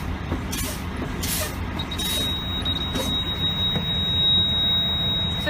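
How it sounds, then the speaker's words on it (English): A truck's air brake pedal is pumped repeatedly during a pre-trip inspection, each press giving a loud hiss of released air, until a steady, high-pitched low-air warning buzzer comes on and holds over a constant engine rumble. "you start pumping the brake pedal until the low air warning device comes on and stays on"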